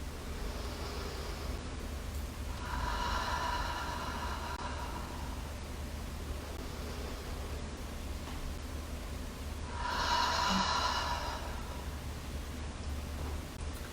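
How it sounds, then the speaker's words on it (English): Two slow, deep exhalations through an open mouth in a quiet room during a yin yoga session, each a soft, breathy rush lasting about two seconds, close and gentle with pauses between. "Let's start with 3 deep breaths. And with these first breaths, it's good to kind of cleanse by opening your mouth on the exhalation."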